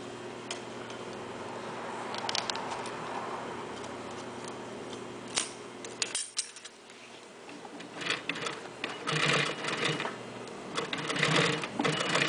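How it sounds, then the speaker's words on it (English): A heavy bag edge sealing sewing machine runs steadily with a dense mechanical rattle, cuts out briefly, then restarts with louder, choppier stitching bursts, close and alone. "It's sewing with no problem whatsoever."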